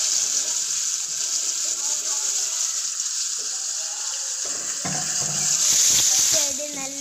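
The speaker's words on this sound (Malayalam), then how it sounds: "ഒരു പാനിൽ എണ്ണ ഒഴിച്ച് ചൂടാക്കുക. അതിലേക്ക് ഓരോ പീസും ഇട്ട് ഫ്രൈ ചെയ്തെടുക്കാം." Fish pieces frying in hot oil in a pan for Malabar-style fish masala, a steady close sizzle with clatters of the pieces and a louder hissing swell near the end, while someone talks over it.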